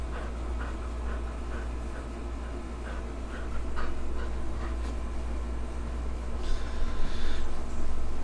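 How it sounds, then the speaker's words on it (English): A dog pants steadily at a street protest in Elizabeth City, the rapid breathing close but partly buried in constant outdoor background noise. "Look at this dog."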